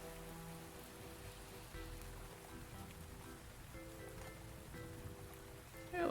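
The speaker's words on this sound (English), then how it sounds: "Let's change the weather to raining. Let's do light rain." Light rain in the video game Cauldron Chronicles makes a faint, continuous patter of drops beneath steady sustained musical tones.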